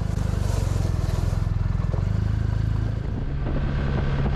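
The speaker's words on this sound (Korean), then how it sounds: "천천히 자갈을 가르는 소리가 좋다." A BMW R1250RT motorcycle rolls slowly over gravel, its engine throbbing low and steady close by, with faint crunching underneath.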